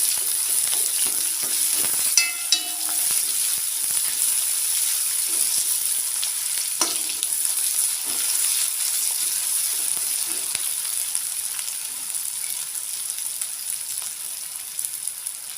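Chopped onion hits hot oil with popping mustard seeds for a snake gourd and coconut stir-fry, bringing a loud, steady sizzle with scattered crackles that continues evenly.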